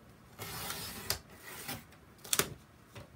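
A paper trimmer blade slides through thick Whisper White cardstock in a few short, rasping strokes, close and moderately quiet, ending with a sharp click.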